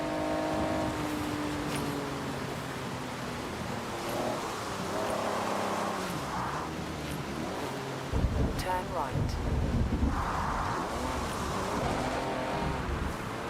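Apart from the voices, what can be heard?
car engine driving in video game Forza Horizon 6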